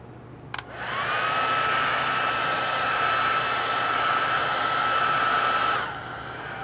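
A hair dryer switches on with a click, rises to a loud steady whine while drying paint on a painted NYC Hudson model, and then winds down.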